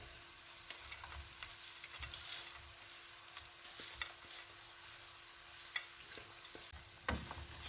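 Fried dried anchovies are stirred with onion and chili powder in a pan, a soft, steady sizzle broken by scattered light scrapes and taps from the spoon, fairly quiet and with no voices.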